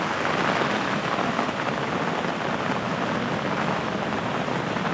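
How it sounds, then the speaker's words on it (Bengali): Steady rain falls on a rainy day beside a river dam where people cast nets for fish, a dense, even hiss of drops that continues unbroken and fairly loud throughout with no voices. "এখন গত 2 দিন ধরে ভালোই বৃষ্টি হচ্ছে"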